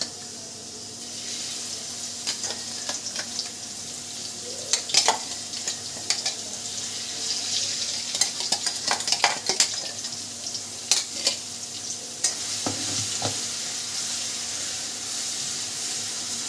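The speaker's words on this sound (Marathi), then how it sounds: "तेल गरम झालं आहे आता मी टाकते थोडेसे जिरे" Cumin seeds sizzle in hot oil, a soft continuous frying hiss broken by scattered crackles and pops, with a few stirring and utensil sounds over it. Fairly quiet and close, with no talking.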